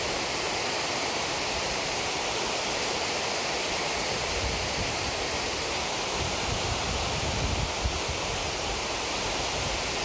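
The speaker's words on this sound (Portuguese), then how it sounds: "E o som dessa água descendo aqui." Water pours steadily down the spillway of the Siriji dam in Vicência, Pernambuco, a continuous broad roar that is loud and unbroken, heard from an overlook above with no voices.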